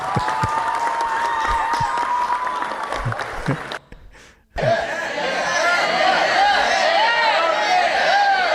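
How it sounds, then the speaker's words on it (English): Audience applause at a Buddhist Avatamsaka Sutra Dharma lecture, steady clapping mixed with chuckles and chatter, breaking off briefly and then resuming more strongly. "What happened to the applause?"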